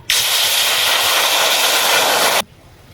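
Water poured into a hot pot while cooking red lentil dal bursts into a loud, steady hiss that runs continuously for over two seconds, then cuts off abruptly, close by with no voices.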